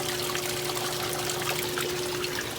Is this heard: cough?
no